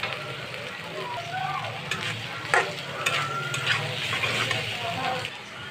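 Vegetable noodles are stir-fried in a home pan with fried egg and grated carrot, giving a steady sizzle with scraping stirs and clatters of the utensil throughout.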